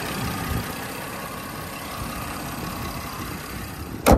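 A Porsche Cayenne engine idles steadily at close range, a low even rumble holding throughout with no voices, ending in a brief sharp knock.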